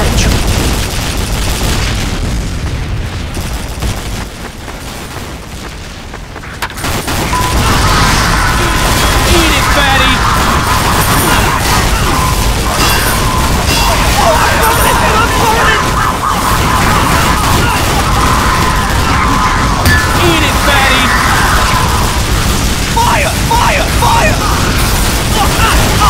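A bomb blows up in the Rottenburg stage of the video game Galvanized Gauntlet, giving a loud booming burst followed by sustained crashing rumble and clatter, with voices speaking over the game noise.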